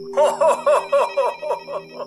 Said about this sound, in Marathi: बाहेर फोन वाजल्याचा मोठा आवाज होतो